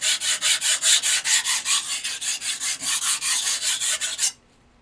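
A knife edge being ground and thinned on a stone to remove chips gives a steady rasping scrape, repeated in about twenty even strokes, loud and close, before it stops abruptly.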